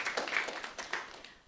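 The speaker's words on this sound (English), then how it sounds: "I'm going to clap my hands to everybody that's here today" A small congregation at a Center for Spiritual Living service in Tacoma claps hands in a soft, scattered patter of overlapping claps, fairly quiet and at a middle distance, with no talking.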